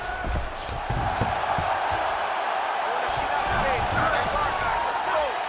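Arena crowd in a UFC 5 fight video game bout between Islam Makhachev and Jose Aldo, a steady loud roar of cheering filling the whole stretch, with a commentator's voice over it.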